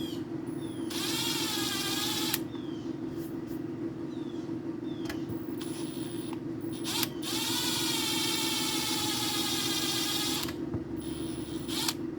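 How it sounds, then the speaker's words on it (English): A power drill whirs in two long bursts with pitch sweeps as it bites into wood while fitting guitar tuners, separated by short pauses, over a steady low hum. "your drill bit will pull the gun into the wood when it catches."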